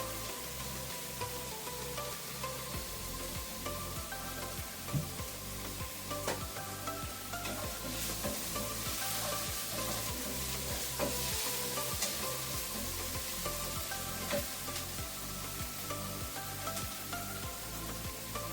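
Onion sautés in a pan for a vegetable dosa dinner, producing a continuous close sizzle with repeated rhythmic scraping and stirring strokes throughout.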